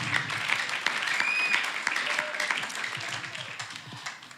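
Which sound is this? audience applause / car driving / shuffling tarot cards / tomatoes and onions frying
audience applause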